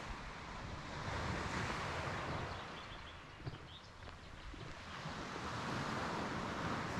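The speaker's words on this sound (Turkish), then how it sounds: "Sadece deniz ve kuş sesleri." Sea waves break steadily on the shore while wind buffets the microphone, giving a loud, continuous wash of surf and gusting noise with no voices.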